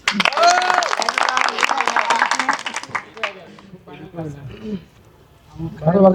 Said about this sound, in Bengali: সবাই জোরে একটা করতালি।